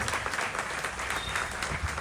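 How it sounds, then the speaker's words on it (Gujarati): Audience at a religious discourse by a Swaminarayan sant in Bharuch clapping together, a dense, even burst of applause lasting about two seconds. "આ ગુરુ સમર્પિત સંતને હાથ ઊંચા કરી તાળીઓથી વધાવવા પડે"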